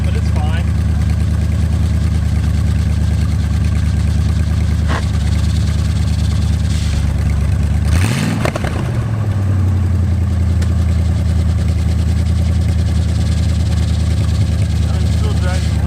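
An abandoned muscle car's engine idles after its first start in 35 years, a loud, steady, low rumble running throughout with one brief rev-like surge midway that settles back to idle.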